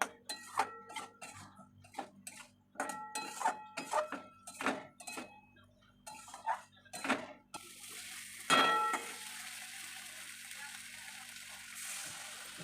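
Boiled potatoes being sautéed in a pan of fried masala for egg curry, with repeated close spoon scrapes and clinks against the pan over a soft sizzle, then a steadier hiss toward the end.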